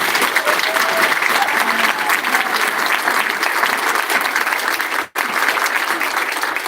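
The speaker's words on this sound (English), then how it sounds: "we all owe a huge round of applause for Dr. Bunka" Sustained crowd applause at an outdoor rally supporting two fired hospital doctors in Kalamazoo, a dense, steady roar of clapping with a brief sharp dropout near the end.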